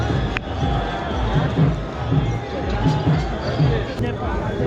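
Dense crowd of pilgrims packed at the Kedarnath temple as its doors open, a steady close hubbub of many voices with scattered shouts and footsteps, loud and continuous throughout.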